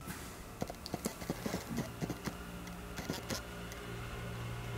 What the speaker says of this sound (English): if you use the autofocus on video, it sounds like this